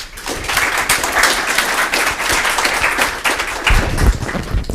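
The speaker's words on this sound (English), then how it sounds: "I want you to give a big shout out and applause to Dr." Audience at a urology department symposium applauds for a visiting surgeon, a lively, full round of clapping with scattered sharper claps that swells slightly toward the end, no voices heard.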